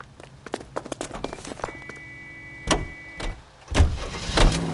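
Car in the video game L.A. Noire, heard as a series of sharp clicks and door-like thuds followed by low engine rumbles and bursts as the vehicle starts moving, close by and with no talking.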